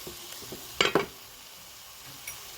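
Meat frying with ginger in a pan gives a low steady sizzle, broken by a few sharp scraping stirs near the one-second mark and a faint clink later.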